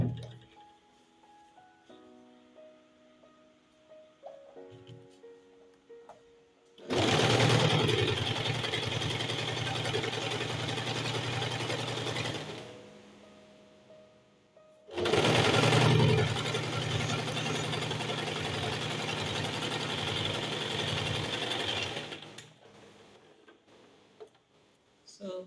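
A sewing machine stitches folded turban fabric in two long, steady runs of loud mechanical whirring, separated by a quiet pause with soft background sounds.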